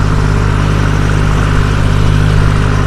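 A tractor engine runs on a village road, a steady close, loud rumbling drone with no pauses.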